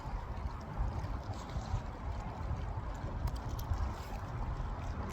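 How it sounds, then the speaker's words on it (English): Gentle lapping water and a soft, steady breeze fill the air in Newcastle, England, a calm continuous wash with no voices. "just listen to the water and the breeze."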